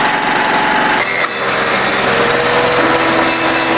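A small engine driving a homemade generator runs steadily and loudly close by, a rapid buzzing drone with a slight change in pitch partway through, heard alone.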